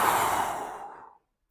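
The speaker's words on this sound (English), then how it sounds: "big breath in, and then big breath out, all the way to the end of your breath" One long, steady exhale during a meditation breathing exercise, breathy and close, fading gradually to silence after about a second.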